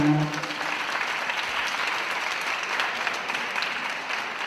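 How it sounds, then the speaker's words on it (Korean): An audience at a Friday university chapel service in Gimcheon claps in sustained, even applause that fills the hall from start to finish. "다시 한번 감사의 박수 부탁드리겠습니다."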